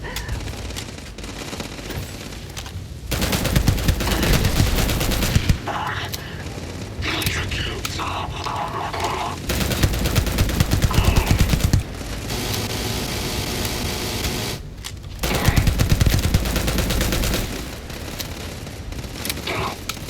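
Minigun fire in the Starfield video game, sustained rattling bursts that come and go over several seconds, loud and close, with a voice talking in between.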